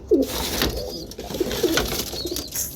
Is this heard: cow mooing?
no